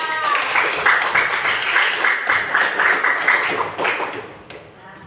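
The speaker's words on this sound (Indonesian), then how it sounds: "Tepuk tangan buat masyarakat." Audience applause breaks out in a classroom during an Indonesian language lesson: a few seconds of close, rhythmic clapping that fades out toward the end.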